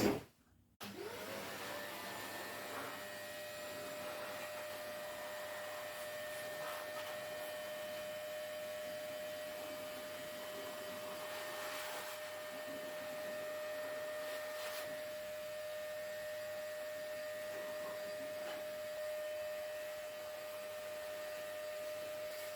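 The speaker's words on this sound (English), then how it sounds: "So I'm just going to give it a go over with the blower." Shop vac run as a blower, starting abruptly and then a steady, even motor whine and airy rush continuing close by with little variation, no talking.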